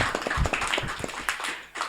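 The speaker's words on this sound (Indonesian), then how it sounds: "Tepuk tangan dulu buat sahabat Fikri." Audience applause at an Indonesian Ansor youth movement anniversary celebration: a dense, steady patter of many hands clapping at moderate distance, sustained throughout with scattered sharper individual claps and no speech.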